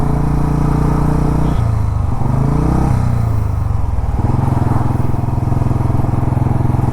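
A sixty-year-old diesel Bullet motorcycle engine runs close by with a loud, deep, steady thumping idle, dipping and shifting pitch briefly midway before settling back into a rapid chugging beat.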